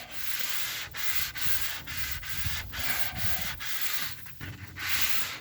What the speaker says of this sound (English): I got me one of these sanding blocks.